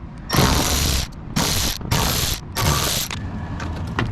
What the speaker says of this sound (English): So we're gonna take those 2 screws off. All right, these are 10 mils. Let's remove them.